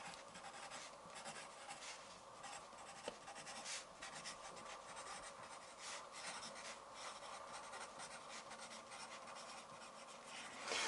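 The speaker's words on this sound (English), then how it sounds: "I will write now, compound time signatures." Pen writing on paper during a music theory lesson: continuous close scratching and rubbing strokes with a steady rhythm, faint and alone with no talk.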